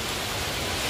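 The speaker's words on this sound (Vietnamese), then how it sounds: "hồi nãy mưa chỉ nhỏ nhỏ thôi, giờ thôi ngập đường luôn rồi nè" Heavy rain pours down during a thunderstorm in a mangrove area, a dense, loud, continuous wash of noise with no breaks and no voices.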